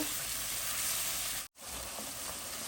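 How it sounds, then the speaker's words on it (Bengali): A paste of ground cumin and coriander fries in a pan with a soft, steady hiss and sizzle, briefly cut off midway before resuming at the same level. "টিস্পুন জিরা গুঁড়া ওয়ান টিস্পুন ধনিয়া গুঁড়া দিয়ে দিলাম মশলাটা এখন আমি ভালো করে কষিয়ে নেব"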